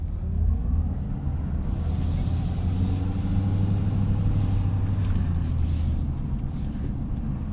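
A 2026 Ford F-450 Super Duty Platinum dually truck with a 6.7L Powerstroke diesel engine pulling slowly into a parking spot, its deep engine rumble steady and close the whole time.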